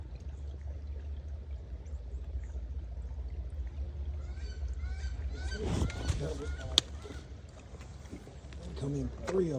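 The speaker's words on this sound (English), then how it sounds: "Geese honking again down there." Geese honk out over the water during an early-morning duck hunt, a cluster of loud nasal calls from a small group rising midway and continuing in bursts over a low steady rumble.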